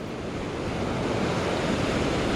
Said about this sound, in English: Feels so good to be back on the surf.